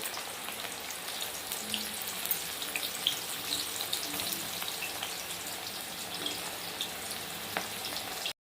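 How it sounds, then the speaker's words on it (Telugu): Bitter gourd slices frying in hot oil, giving a steady, fairly quiet sizzle and crackle that carries on evenly for the whole stretch, with no talking over it. "ఆయిల్ వేసుకొని మరిగిన తర్వాత కాకరకాయలు ఇలా డైరెక్ట్గానే ఫ్రైకి వేసేసుకుంటాము."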